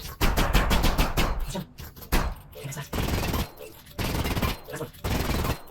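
Repeated gunshots strike a door lock in Half-Life: Alyx, loud close bursts of firing in several rapid volleys separated by short pauses.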